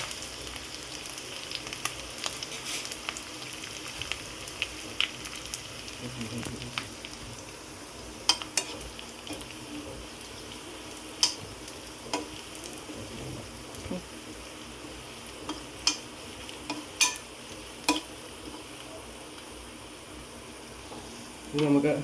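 Halved dried red chillies and curry leaves fry in a pan with a soft, continuous crackle and sizzle, dotted with sharp pops and occasional stirring clicks.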